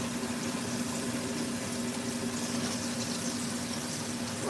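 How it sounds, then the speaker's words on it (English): Pork chops fry in a pot with a steady, dense sizzle and bubbling hiss that holds even throughout, close and fairly loud with no talk. "Frying up quite nice."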